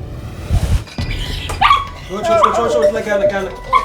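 An injured puppy, hit by a car with its head run over, gives repeated high yips and whimpers, close and fairly loud, with a low thump and rustling near the start.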